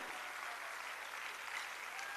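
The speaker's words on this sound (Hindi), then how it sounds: "एक बार जोरदार तालियों के साथ अभिनंदन, वंदन, स्वागत" An audience at a state-level World Disability Day award ceremony applauds to welcome the chief minister, a steady, even wash of clapping heard from a distance.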